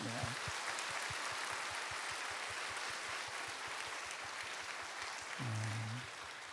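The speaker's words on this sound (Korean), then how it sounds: "힘차게 박수하겠습니다" A church congregation of all ages, children and youth included, claps vigorously together at a Sunday service, a steady roomy applause with a rhythmic underlying beat and a speaking voice briefly at the start and again near the end.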